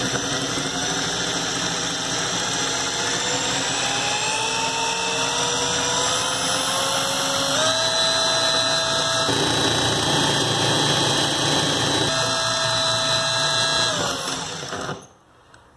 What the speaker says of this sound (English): Now that's running with this drill.